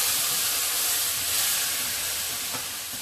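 Steam hissing and sizzling from a hot pan with a stock cube in it, a steady loud broadband hiss that fades slightly toward the end, close and alone without talking.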